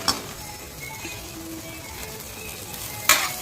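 Egg white sizzles and is stirred in a pan for a Tamil egg thokku, a steady close frying hiss with a sharp metallic clink of the utensil against the pan near the end, no voices.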